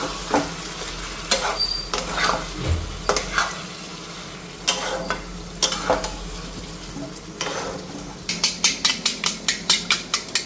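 Vegetables including sweet pumpkin frying in a pan as spices are added, with repeated scraping stirs and steady sizzling, ending in a quick run of rhythmic utensil scrapes against the pan.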